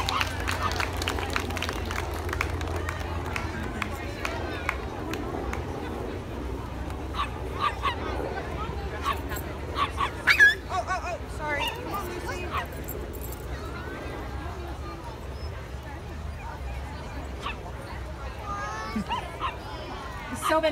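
Several dogs bark and yip at an outdoor dog show while an announcer speaks over a crowd; the barks come in short scattered bursts at moderate distance beneath the ongoing talk.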